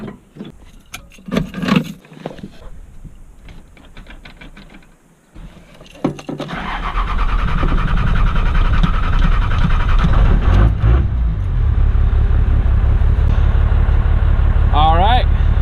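Clicks and rattles give way to an engine cranking and catching, then a loud, steady rumble of a truck idling.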